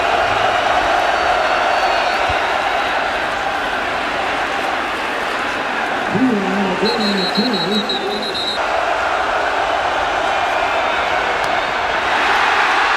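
Dense stadium crowd roar at a Florida vs Kentucky college football game, a steady loud wash of voices throughout with a brief whistle-like melodic tone rising through the middle.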